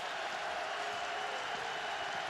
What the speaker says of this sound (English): The crowd's starting to be a factor down here for the first time today